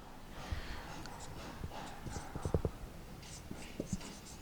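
Marker or chalk writing on a board during a Bangla grammar lesson: scattered scratchy strokes and light taps over a soft background hum.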